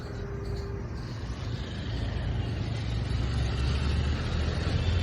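Busy road traffic on a narrow street crowded with cars and e-rickshaws, heard from a motorbike: a steady, close engine rumble that slowly grows louder, with no talking.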